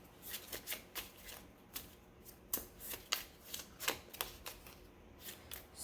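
Tarot cards are shuffled by hand in a quiet room, a soft, irregular run of riffling flicks and papery slaps repeating for several seconds, close but faint.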